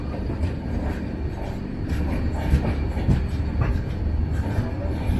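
Kannur–Yesvantpur Express pulling into Banaswadi station, heard from on board as a steady low rumble of rolling wagons with faint rhythmic wheel clatter throughout, no talk.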